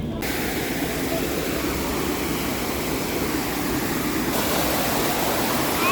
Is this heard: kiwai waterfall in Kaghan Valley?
yes